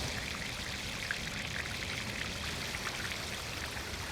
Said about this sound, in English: when the water is falling down, the sound is being enhanced by it falling down those fish scales